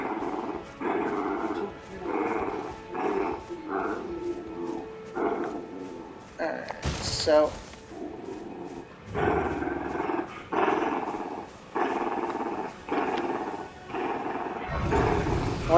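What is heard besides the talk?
growling creature in the video game Elden Ring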